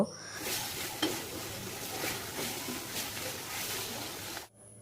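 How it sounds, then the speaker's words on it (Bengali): Baim fish, a spiny eel, frying in hot oil with a dense, steady close sizzle and occasional stirring clinks, cutting off abruptly at the end. "আমি বাই মাছ তেলে বেজে নিব"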